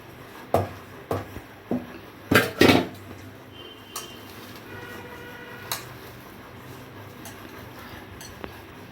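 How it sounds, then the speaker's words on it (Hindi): A spoon works grated potato into cooled semolina in a bowl, producing a handful of sharp metallic clinks and knocks in the first few seconds, then a few fainter taps over a quiet background. "अब इसमें आलू मिक्स कर रहे हैं।"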